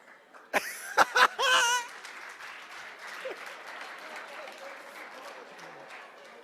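A youth camp audience bursts into brief applause with a few laughs and chuckles, loud for a couple of seconds and then fading into a scattered murmur and light crowd noise.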